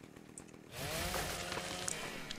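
A chainsaw in the video game ARK Primal Fear revs up from a quiet start and holds a loud, steady buzzing drone with wavering pitch.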